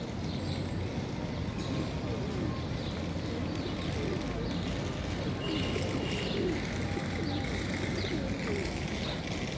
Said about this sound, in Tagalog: Daming kalapati guys.